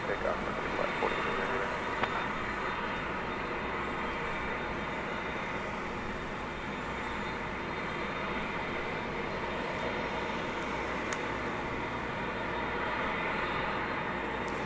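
A Frontier airliner takes off at night at DFW Airport, a steady, broad engine roar that holds evenly throughout with no clear rise or fade, sounding distant and continuous.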